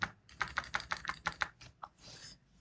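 Rapid keystrokes on a computer keyboard, including shift and other keys, a quick run of close, crisp clicks followed by a short pause and a softer rustling press.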